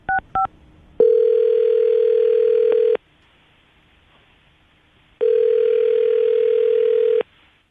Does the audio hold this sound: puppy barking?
no